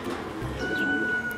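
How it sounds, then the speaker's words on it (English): Soft, low cooing of ringneck doves at a petting zoo over steady background noise, with a faint tonal hum running through the second half. "And these are ringneck doves."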